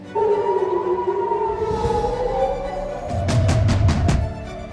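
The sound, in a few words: air raid siren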